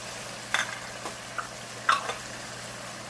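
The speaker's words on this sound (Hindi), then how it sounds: "अब हम इसमें साबुत ज़ीरा ऐड करेंगे। मिक्स करेंगे।" Whole cumin seeds hiss in hot oil with ginger already fried in the pan, a steady close sizzle broken by a couple of sharper spatula scrapes as the spices are stirred in, with no talking.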